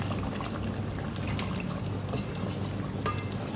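Kewra water poured into a pot of Delhi-style mutton korma, a steady soft liquid trickle running throughout under a continuous low kitchen hum, no voices.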